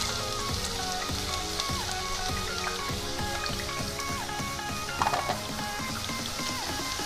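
Onions go into hot oil with whole spices for a chicken white korma, giving a steady close crackling sizzle with a brief louder pop of spatter midway, no talk.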